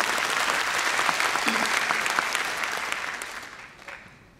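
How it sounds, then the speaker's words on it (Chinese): Sustained audience applause fills a large convention hall at a Taipei business testimonial event, steady dense clapping that gradually thins and fades toward the end. "再次给我们立位一个掌声"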